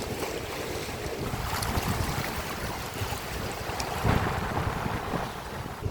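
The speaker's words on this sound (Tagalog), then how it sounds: "Satisfying yung yung tunog ng dagat, ng alon, yung hampas ng alon sa bato." Sea waves surging and crashing against rocks on the coast at Real, Quezon, a steady broadband wash with low rumble and occasional stronger surges, heard up close with wind buffeting the microphone and no talk.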